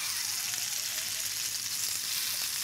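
Tomatoes and garlic sizzle in hot oil in a pan with a steady, dense crackle, close up and alone.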